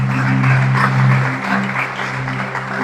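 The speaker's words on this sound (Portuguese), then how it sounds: "Você pode aplaudir o Senhor Jesus?" A church congregation applauds during an Easter sermon by an evangelical pastor, a dense, steady wash of clapping that stays loud through the whole moment, with a low sustained tone running underneath.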